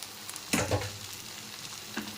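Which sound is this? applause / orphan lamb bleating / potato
potato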